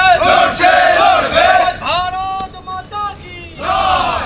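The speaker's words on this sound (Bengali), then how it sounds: "এসআইআর নিয়ে রাজনীতি করার অভিযোগ বিডিও অফিসের সামনে বিক্ষোভ বিজেপি কর্মী সমর্থকদের।" A crowd of BJP supporters protests outside a BDO office, loud massed chanting and shouting in sustained waves, close and dense with no pauses.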